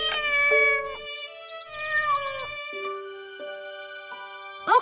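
A kitten in an animated cartoon gives a series of high, tonal meows, several separate cries in a row with a thin voice and pauses between them, ending on a sharper final mew.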